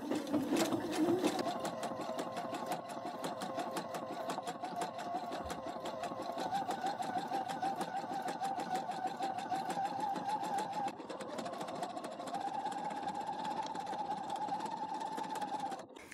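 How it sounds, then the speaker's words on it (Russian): Sewing machine with a joining presser foot stitching two pieces edge to edge in a butt seam, humming in a continuous, moderate-speed mechanical whir throughout with a brief pause near the middle. "Направитель располагаем меж двух деталей. И опускаем. Начинаем шить."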